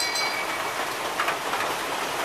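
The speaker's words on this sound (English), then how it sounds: "Oh wow, rain is really picking up out here." Steady rain falling outdoors, an even hiss of drops on surfaces, continuous and moderately loud with no voices.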